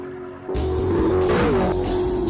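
An Alfa Romeo 8C's engine and exhaust erupt abruptly after a brief quiet moment into a loud, sustained, close-up roar with a rising, shifting tone.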